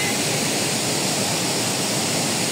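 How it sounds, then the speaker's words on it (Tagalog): Kawasan Falls pours as a continuous broadband roar of crashing water, loud and steady without pause, with no voices over it. "Sa Kawasan Falls."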